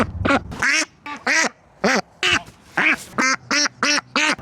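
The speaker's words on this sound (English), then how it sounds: "Females will make a louder quacking sound." Ducklings quack in about a dozen short, evenly spaced calls, loud and close, with the females the louder callers and no talking between the quacks.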